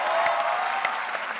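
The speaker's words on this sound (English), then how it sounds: "Can we give a big round of applause for Ms. Kanis Surka, for Mr." A crowd at a comedy show gives a sustained round of applause for the performers, dense and even throughout with no talking over it.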